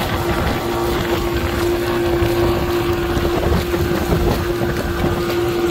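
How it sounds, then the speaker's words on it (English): A Yamaha outboard motor drives a bangka pumpboat, running loud and steady with a constant engine hum under heavy wind buffeting on the microphone and water rush, no talking. "I don't think I need to change nothing on that motor back there"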